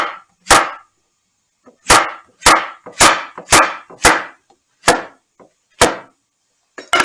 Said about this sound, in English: we're going to cut the top off and the bottom, just a little bit. Nice even slices, no more than 1/2 inch